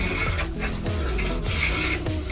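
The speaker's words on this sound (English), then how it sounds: "Just to take a couple of shavings off." Hand plane shaving wood off the top edge of a drawer, a series of rasping strokes about every half second, close and loud with no talk.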